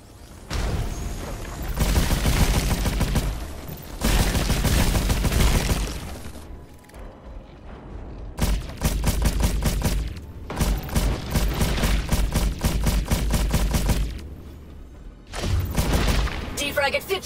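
Gunfire in the PlayStation VR game Scavengers Odyssey comes in long, loud automatic bursts separated by brief pauses, with thuds and explosions mixed in.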